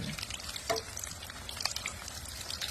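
Shrimp fry in a hot pan with a crackling sizzle, broken by several sharp stirring scrapes and clicks, close and moderately loud.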